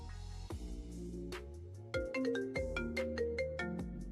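Phone ringtone for an incoming call, a bright melodic chiming tune of quick repeated notes that rises in loudness partway through, heard alone.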